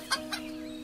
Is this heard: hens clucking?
yes